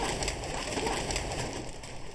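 Homing pigeons being trained for an upcoming race, with a dense, continuous wash of soft cooing and flock noise, fairly loud and close throughout.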